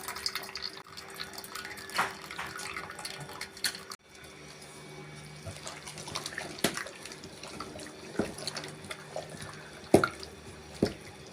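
Water drains and drips from cooked paruppu keerai greens in a kitchen, a faint trickle with scattered close drips and small clinks, alone and fairly quiet.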